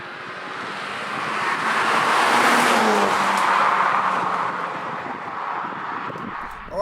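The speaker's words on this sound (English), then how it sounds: "let's do a little first gear pull, see how it gets down" A SEAT Leon Cupra 290 pulls hard in first gear on slightly wet roads, its engine note swelling loud and steady, then easing off toward the end.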